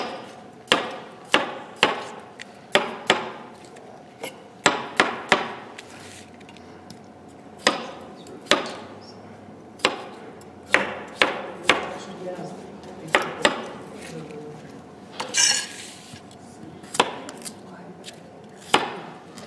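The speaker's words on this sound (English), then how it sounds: "we're going to cut them in chunks" Red skin potatoes chopped into chunks with a knife on a cutting board: a steady series of sharp, close knocks at irregular intervals, about twenty in all, with a brief rustle near the middle and no talking.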